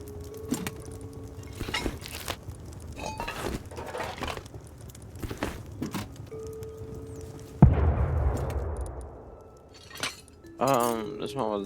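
In the survival game Rust, a box blows open with a loud, close burst that decays into crackling debris. Sharp glassy clinks and impacts come before it, and talk breaks in now and then.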